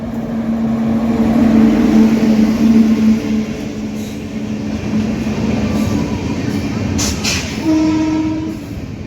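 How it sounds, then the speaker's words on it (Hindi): The 13125 Kolkata–Sairang Express, hauled by a WAP7 electric locomotive, arriving at Azimganj Junction: a loud, steady rumble of wheels and carriages with a sustained horn tone, and a short second horn note near the end. "आजिमगंज जंक्शन से न्यू जलपाईगुड़ी 13125 कोलकाता सारंग एक्सप्रेस में, जिसका लोको लिंक है WAP7। अभी अराइवल हो रहा है।"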